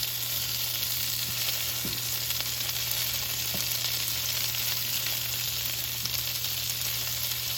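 Ground turkey fries in a pan on the stove for a beef-style stroganoff, giving a steady, dense sizzle with a few faint utensil knocks, continuous and close, with no talk.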